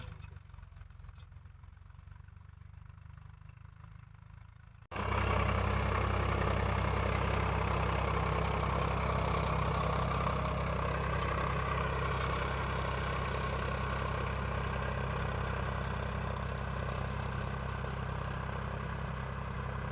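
A heavy tractor engine drones steadily in a wet field during wheat sowing; it starts quietly, then jumps sharply louder and keeps rumbling evenly at close range.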